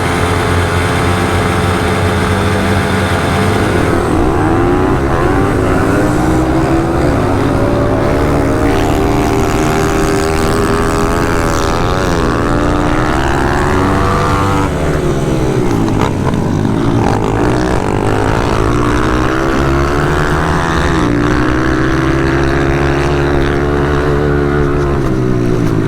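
Several pit bike engines roar together at the start of a race in the Italian Pit Bike Championship at Barbania, loud and continuous, with rising and falling revs throughout.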